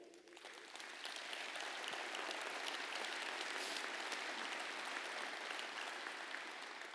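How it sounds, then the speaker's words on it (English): A large crowd at a VFW national convention claps steadily, a dense wash of applause building in the first second and holding strong before easing slightly at the end. "Give yourself an applause."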